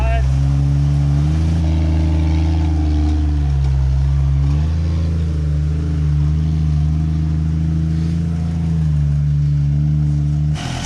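A big diesel engine in a Jeep Wrangler drones loud and steady off-road, its low hum rising and falling as the throttle shifts, with some talk over it.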